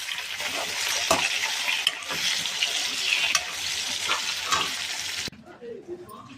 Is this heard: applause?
no